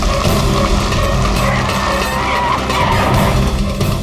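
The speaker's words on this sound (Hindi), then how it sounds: "कोई अच्छी जगह पे गाड़ी रोको सर" A car brakes hard and its tires skid and squeal for several seconds, loud and close, with engine noise underneath and no talking.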